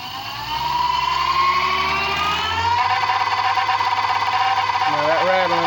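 Homemade generator built from a BLDC motor and microwave transformers spinning up, a loud rising electrical whine with rattling mechanical buzz that climbs in pitch and then settles, while someone talks over it.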